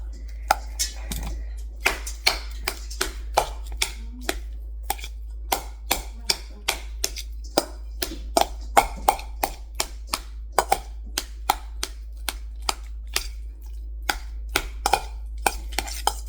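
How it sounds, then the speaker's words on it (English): Spoon mashing ripe avocados in a bowl for guacamole, a long series of sharp, close taps and squishes in a fairly steady rhythm over a low constant hum, with no voice. "you get a spoon, right? And you mash it all up."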